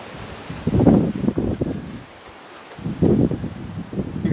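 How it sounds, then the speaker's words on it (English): Wind buffets the microphone in rough low gusts, rising and falling outdoors with a brief lull in the middle. "Come in here, it's too windy."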